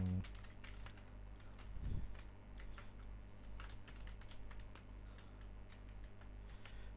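A password is typed on a computer keyboard, giving a steady stream of light, fairly faint key taps over a constant low background hum.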